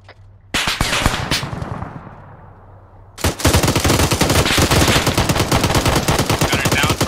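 Machine gun fire from a mounted technical in the military video game ARMA 3: a sharp opening shot and brief burst give way to a long, loud, continuous stream of rapid rounds, close and dense.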